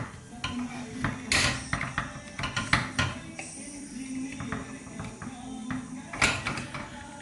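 A pressure cooker lid is worked open after cooking, with close metallic clanks, scrapes and rattles of pot and lid in an uneven sequence, some sharper knocks standing out, and no speech.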